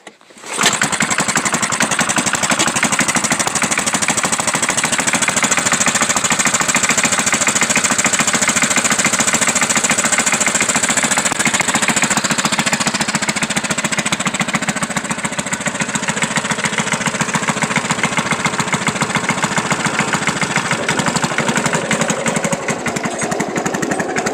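A Honda Craftsman push lawn mower with a Briggs engine runs loud and steady close by, a continuous dense drone that starts abruptly and holds at an even pitch for the whole stretch with no voices.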